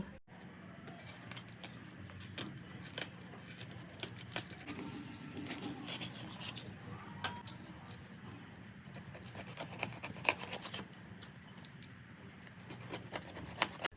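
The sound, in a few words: knife cutting a snakehead fish into pieces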